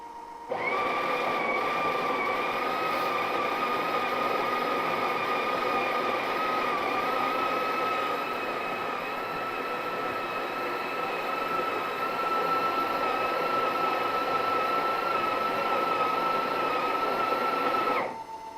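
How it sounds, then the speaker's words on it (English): Espresso machine with a built-in grinder runs a continuous, steady whirring grind with a sustained tonal whine, loud and close, starting abruptly and stopping near the end, with no talk over it. "Essentially with a flick of the switch it will start grinding"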